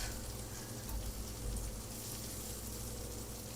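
Butter sizzling in a hot skillet for a spiced apple dessert, a steady faint crackling fry with no talking.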